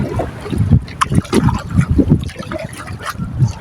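A fishing boat is rowed with a paddle instead of its engine, and close, uneven water splashes and sloshes sound from each stroke. A breezy background can also be heard.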